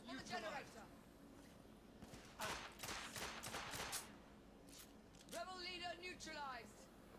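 Gunfire in the video game The Order: 1886, rapid bursts of shots in several clusters, fairly quiet, with a voice talking between them.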